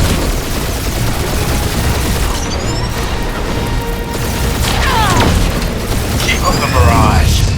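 A loud, sustained barrage of gunfire and heavy blasts in Guardians of the Galaxy fills the scene with dense, continuous booming and crackling, while voices speak intermittently over the chaos.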